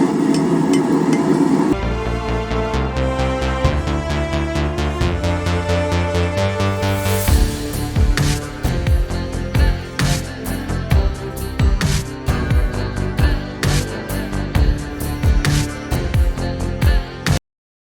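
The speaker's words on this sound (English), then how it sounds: "now we're just going to very gently work this over the horn a bit" A wrought iron ring is hammered over the horn of an anvil in a series of close, ringing metallic blows, first in a quick rhythm of bright strikes and then in heavier, evenly spaced hits.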